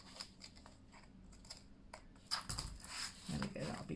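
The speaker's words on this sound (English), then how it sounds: "Pains me to cut a corner by hand when I love my corner rounder up punch so much." Small scissors snip by hand around the corner of paper for a craft folio, a few quiet clustered cuts and rustles, close and faint, while someone talks over them.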